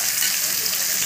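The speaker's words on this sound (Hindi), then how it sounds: "ये भी मैं ये अच्छे से फ्राई करूँगी" Potatoes fry in a pan in a home kitchen, giving a bright, steady sizzle that fills the short moment at close range.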